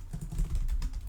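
Rapid, steady keystrokes on a computer keyboard, close and fairly loud, clattering continuously for about a second with no voices.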